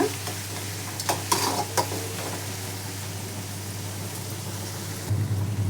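Onions and curry leaves frying in a pan for vangibath, a loud crackling sizzle with a few bursts of stirring early on over a constant low hum.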